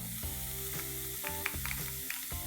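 Chopped paneer-starter vegetables, including capsicum and green chilies, fry in a pan with a steady close sizzle and occasional clinks and scrapes of stirring.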